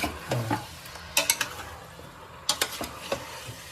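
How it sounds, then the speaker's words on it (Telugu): Mutton fries in hot oil while being stirred, a low sizzle broken by clusters of sharp spoon scrapes and clinks against the pan, close and without speech. "నూనెలోకి ఇప్పుడు 2 minutes అట్లా రోస్ట్ చేసాను. ఒక 2 minutes అట్లా ఫ్రై చేసుకొని"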